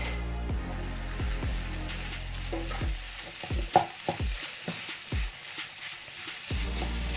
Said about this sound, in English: After 2 minutes, you want to add your meat.